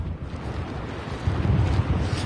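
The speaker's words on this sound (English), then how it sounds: "those gusts of winds are very strong here on Highway 50" Strong wind gusts in a snowstorm on Highway 50 at Sierra-at-Tahoe roar across the microphone as a steady low rumble that swells louder in the second half, with no voices.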